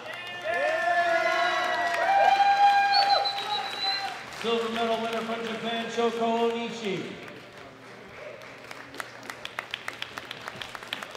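At a junior women's 52 kg powerlifting medal ceremony at the World Classic Powerlifting Championships, an audience applauds under an announcer's amplified voice, and scattered claps taper off at the end.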